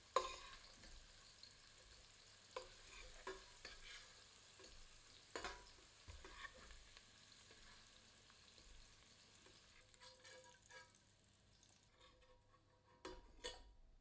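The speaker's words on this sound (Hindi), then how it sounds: "आंच पर मटर को भूनते रहते हैं ताकि यह फट जाएं" Peas and mushrooms roast in hot oil in a pan over a flame, giving a steady soft sizzle and frying crackle, broken by occasional sharp clicks and stirring scrapes of a utensil against the pan.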